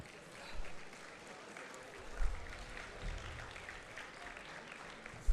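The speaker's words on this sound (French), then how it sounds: "Vous l'avez applaudi 2 fois" An outdoor crowd applauding at the start of the 24 Heures de Saint-Jo race; a continuous, fairly distant wash of clapping with a few louder swells and faint voices underneath.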